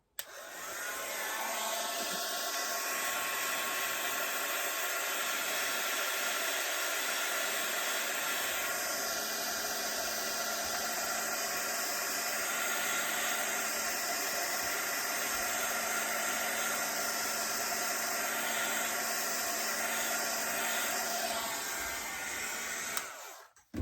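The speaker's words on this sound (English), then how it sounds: "You can dry it off a little bit with the heat gun." A heat gun blowing hot air to dry a handmade paper card, a loud, steady rushing whoosh that runs continuously for over twenty seconds, with slight shifts in tone as it moves.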